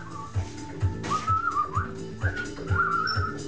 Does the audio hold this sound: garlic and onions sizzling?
no